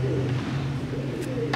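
A rare purebred pigeon from a Kasur breeder cooing, a close, steady low coo running through the short stretch.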